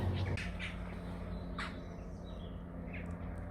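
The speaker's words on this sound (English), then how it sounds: "There's a lot of birds just making noise on this tree." Birds in a tree give a few squawks and chirps against a steady low rumble from a passing aeroplane, the calls brief and scattered across a few seconds with no talking.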